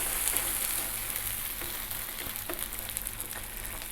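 Baked beans sizzle and fry in a hot pan, a steady close hiss with faint scraping from stirring throughout.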